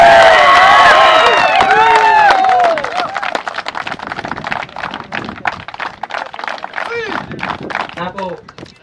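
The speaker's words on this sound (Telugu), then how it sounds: "చప్పట్లు కొడదాం అందరం గట్టిగా" A crowd at a cricket tournament ceremony claps loudly and cheers for the organiser, with dense, close applause under loud talk and an amplified voice that keeps going over the clapping.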